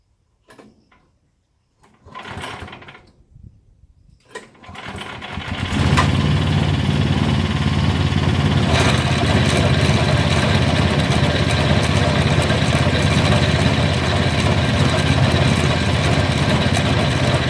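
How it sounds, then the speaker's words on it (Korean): A fertilizer spreader's small engine is pulled over a few times, catches, and settles into a loud, steady, buzzy idle that runs on continuously up close. "한번 시동을 걸어보고 시험 가동을 한번 해볼게요"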